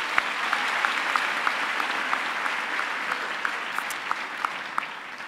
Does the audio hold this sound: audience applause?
yes